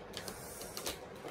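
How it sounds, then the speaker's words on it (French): An electric fan running on a hot day, heard as a steady broadband whir with faint mechanical clicks and ticks, fairly quiet and alone, no talk. "le bruit que vous entendez, c'est mon ventilateur"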